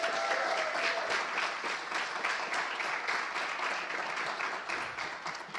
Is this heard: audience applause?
yes